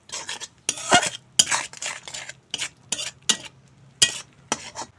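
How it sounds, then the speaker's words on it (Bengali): Egg and spice paste stirred and sautéed in a pan for an egg and brinjal dish: repeated scraping strokes of a utensil against the pan come in irregular bursts over a soft sizzle, fairly close, with no talk. "এখন ডিম মশলা একসঙ্গে ভালো করে কষিয়ে নেব।"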